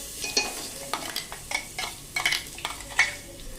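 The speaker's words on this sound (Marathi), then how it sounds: "हे वाटण आपल्याला फोडणीमध्ये घालायचंय" A garlic and green chilli paste sizzles steadily in hot tempering oil while a spoon scrapes and stirs in regular strokes close by.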